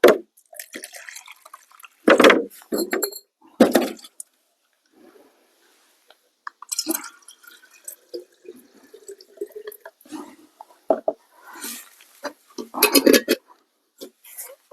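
Warm water poured into a jar while mixing a spring garden spray, heard as short bursts of pouring and dripping, with quieter clinks and handling noises between them.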